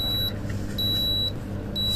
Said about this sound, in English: How to disable buzzer of Karil IR33.